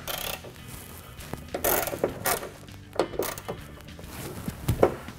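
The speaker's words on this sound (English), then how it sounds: "Remove the two nuts with a 10mm socket." A ratchet with a 10mm socket loosens the nuts on a Jeep Wrangler hood catch, giving quick bursts of close, sharp clicking separated by brief pauses and some light metal handling.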